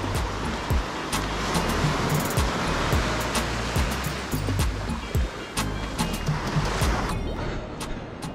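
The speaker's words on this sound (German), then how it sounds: "Eine echt winzige Welle heute." Small ocean waves wash continuously onto Coconut Beach, a steady close surf hiss with repeated soft breaking surges and a few sharp ticks, with no voices.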